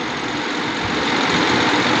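A timber lorry's engine runs steadily nearby just before reversing, a loud continuous rumbling drone with no break.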